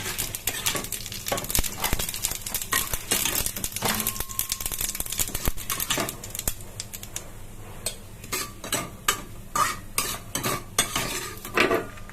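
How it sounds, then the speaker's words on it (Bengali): Black mustard seeds and dried red chillies crackle and spit in hot oil for a tempering, a dense close sizzle of rapid pops, with occasional utensil scrapes against the pan. "তেলের মধ্যে কালো সর্ষে আর শুকনো লঙ্কা দিয়ে ফোড়ন দেবো।"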